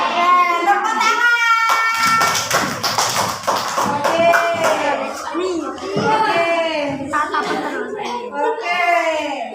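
Children in a primary school class clap their hands in a brief, scattered burst, mixed in with kids' voices and an adult speaking.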